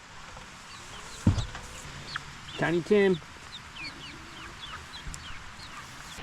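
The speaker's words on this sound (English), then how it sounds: "We got country chickens." Country chickens cluck and squawk outdoors in gloomy, rainy weather, sending a few sharp bursts over a faint background of distant calls, while a voice briefly speaks.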